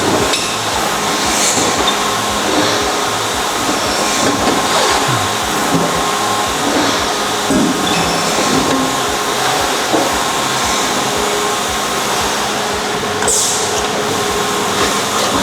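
Metalworking machine running steadily while it cuts a coping part, a continuous dense mechanical whir with faint metallic clinks throughout, no talking.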